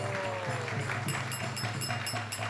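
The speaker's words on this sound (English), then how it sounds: "Let's give him a round of applause." Faint applause from a temple congregation at an ISKCON gathering, a soft, continuous patter of clapping with a steady rhythmic beat running through it.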